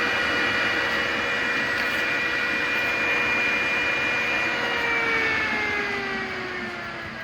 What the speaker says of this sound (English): So you hear that fan spinning down